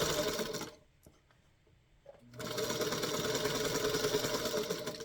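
A sewing machine stitches rag quilt blocks in a steady, fast mechanical whir, pausing briefly in the middle and then resuming loud and close.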